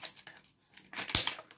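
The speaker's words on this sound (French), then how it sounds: "C'est des petits ciseaux." A few quick, crisp snips of small scissors close up, with light rustling between cuts in an otherwise quiet room.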